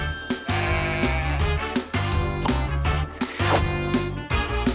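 A sheep bleats in a children's animal-exploration cartoon, the bleats sounding loud and close over steady, bright background music with a faint jingle.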